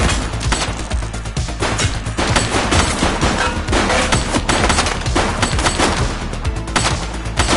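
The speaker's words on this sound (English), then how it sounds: "He's shooting!" A suspect's gunfire in the police game The Precinct pours out as loud, relentless rapid-fire bursts, dense overlapping shots filling the whole stretch with barely any pause.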